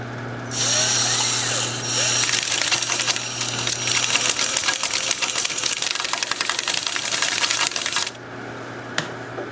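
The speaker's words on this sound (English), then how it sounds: "Lathe is spinning forward at about 338." A wood lathe spins a turning at about 338 rpm while it is sanded at 150 grit. A steady motor whine runs under a dense, gritty scratching that starts shortly in and continues until the sanding stops near the end.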